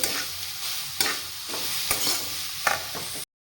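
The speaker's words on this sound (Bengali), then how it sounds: "পাঁচ মিনিটের মতো আমি এইভাবে নেড়ে চেড়ে নিব ঘিয়ের সাথে" Grated carrot stirred in hot ghee in a pan, cooking for carrot patishapta pitha: a steady close sizzle broken by spatula scrapes about once a second, with no talking.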